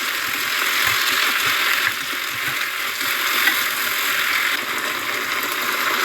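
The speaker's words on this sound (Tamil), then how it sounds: "இப்போ தக்காளி பழத்தை போட்டிருக்கிறேன் நல்லா பதங்கட்டும்" Chopped tomatoes frying with onions in a pan for paneer masala curry, a loud, dense, continuous sizzle close up with faint stirring scrapes underneath.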